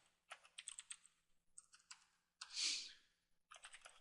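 Typing on a computer keyboard while writing code: close, irregular bursts of quick key clicks with short pauses and one louder, sustained clatter near the middle.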